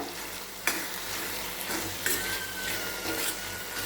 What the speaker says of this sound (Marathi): आता इथे मी भाजलेल्या दाण्याचा पूड घेतलाय तो घालूया मिक्स करून घेऊया